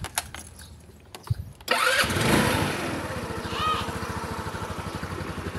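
A motorcycle, recently fitted with a stock charging part while a battery that keeps going flat is checked, clicks and jangles before cranking, catches and settles into a steady, close idle with a rhythmic low pulse.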